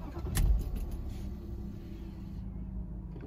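A 1998 BMW 528i with about 275,000 km cranks and starts in neutral: a short sharp burst of starting noise gives way to a steady, close, low engine idle rumble.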